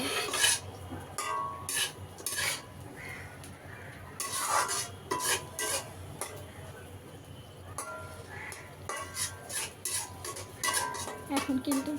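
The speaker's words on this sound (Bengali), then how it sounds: "মশলাগুলো কষানো হয়ে গেলে এখানে আমি ডিম দিয়ে দিব ডিম বুনা করে নিব" A pan of eggs being scrambled with spices, a spatula scraping and clinking against the metal in repeated bursts over a low sizzle, with a faint voice in the background.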